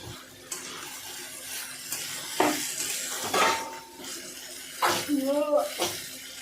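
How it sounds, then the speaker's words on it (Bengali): Mutton curry masala is stir-fried in a pan on a low flame, with intermittent scraping and clattering strokes of the spoon in the pan and a soft sizzle under a woman's speech. "এবার ভালো করে এটাকে মশলার সঙ্গে ভালোভাবে কষতে থাকবো।"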